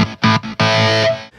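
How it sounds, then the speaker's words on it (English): Distorted electric guitar on an Epiphone Jeff Waters signature model, loud and sustained, chopped into abrupt bursts by a kill switch with sharp silent gaps between them. "Got a kill switch, just for mostly for an effect."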